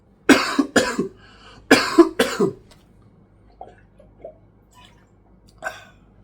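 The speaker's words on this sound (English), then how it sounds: "Got a bit of a cough going on there." A man coughs on a hot summer day: two quick pairs of close, loud coughs, then quieter throat noises and faint sounds fading out.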